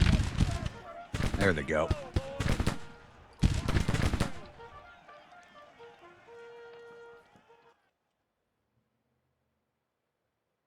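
Rapid volleys of musket and rifle fire in the Civil War strategy game Grand Tactician: The Civil War, dense crackling bursts for the first few seconds that fade into distant shots and music, then silence, with someone speaking briefly over it.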